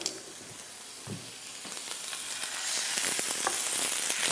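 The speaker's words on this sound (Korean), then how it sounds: "소량의 물을 부어서 이 물이 졸아질 때까지 잘 볶아줍니다" Bracken fern stir-frying in a pan with a splash of water, sizzling and crackling loudly, the hiss building as the water cooks down, with scattered stirring scrapes.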